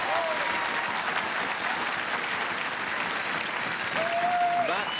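A tennis crowd on court number 1 at a Fed Cup match applauds steadily, many hands clapping in a continuous wash, with a voice talking under it.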